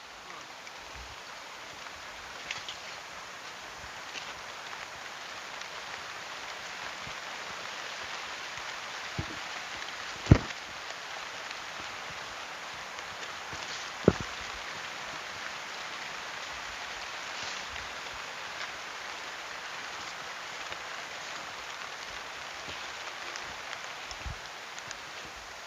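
Sudden rain falling around a farm shelter, a steady soft hiss of drops on surfaces with a few sharp louder drips, continuing evenly throughout.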